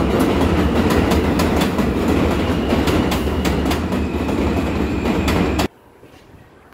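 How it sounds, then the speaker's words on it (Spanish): Train on Fulton Street in Brooklyn rumbles past close by, a loud, steady roar with rhythmic clickety-clack wheel beats that cuts off abruptly near the end, leaving quiet street ambience. "Ahora va el tren pasando."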